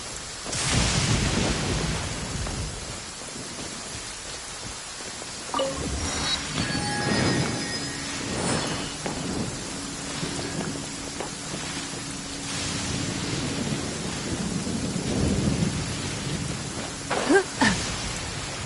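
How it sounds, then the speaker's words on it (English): Steady rain pours throughout with rolling thunder rumbles, louder near the start and again midway, with a few sharper drips and crackles toward the end; no voices. "It's raining"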